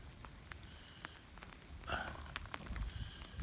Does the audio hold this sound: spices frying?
no